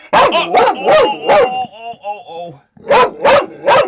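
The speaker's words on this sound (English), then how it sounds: "Such a good puppy." A puppy in a Freightliner FL60 ambulance converted into a house on wheels barks loudly and close, three sharp yips, then a short whimpering whine, then three more barks in a steady rhythm.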